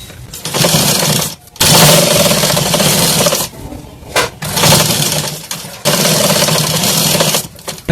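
A sewing machine stitches a katori blouse in long, loud runs, pausing briefly between bursts of steady mechanical whirring.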